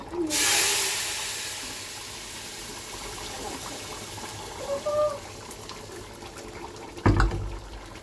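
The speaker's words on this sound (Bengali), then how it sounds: "এবার চিকেন ঢেলে দেবো" Chicken poured into a hot pan bursts into a loud hissing sizzle that slowly settles to a steady crackle, with a few clinks and a sharp clatter near the end.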